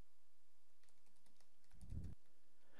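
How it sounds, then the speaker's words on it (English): Keystrokes on a computer keyboard while entering a date and lesson title, a handful of faint, quick clicks clustered near the middle, with one slightly louder tap, in an otherwise quiet room. "Here I can type the date, and here I can type lesson."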